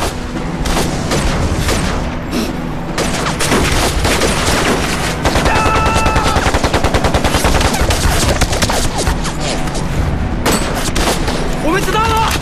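Dense, loud machine gun fire in a war film battle, continuous rapid bursts layered with gunshots and booms, with shouting voices mixed into the chaos.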